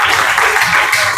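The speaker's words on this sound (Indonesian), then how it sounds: "beri tepuk tangan kepada kelompok 6" A classroom crowd gives a loud, dense burst of applause for a student group, with steady clapping filling the whole moment.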